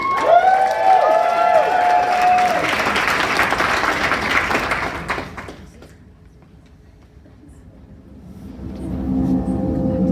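Loud audience applause with some cheering and whistles for several seconds at a shadow puppet performance, then fading away to near quiet before faint music begins.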